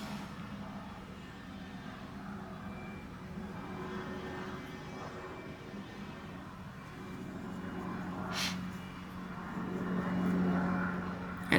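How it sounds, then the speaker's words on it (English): Aircraft rerouted from a nearby airport passing overhead outside a house, a low distant rumbling drone that slowly swells louder toward the end, faint and steady with no talking. "we get all the airport traffic when they have to reroute due to weather"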